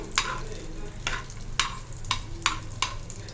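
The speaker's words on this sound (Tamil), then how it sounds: "முந்திரியை முந்திரி நல்லா வறுபடட்டும்" Cashews roast in a hot pan with melted fat for a traditional coconut thirattu pal sweet, a steady low sizzle broken by about six sharp, regular stirring scrapes close by.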